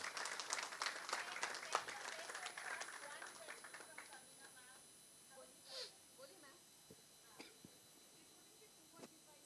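Audience applause at a Hindi film trailer launch, busy clapping that fades after a few seconds, leaving scattered claps and faint crowd noise.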